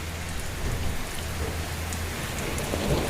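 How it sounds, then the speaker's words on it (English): Heavy rain pours down steadily during a storm, a dense, continuous hiss of drops hitting surfaces with a low rumble underneath, loud and close throughout, with no talking. "Guys, watch out for the rain."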